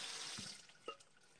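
Water runs from a tap into a sink while dishes are washed, a faint, soft, steady stream with a couple of small splashes and clinks.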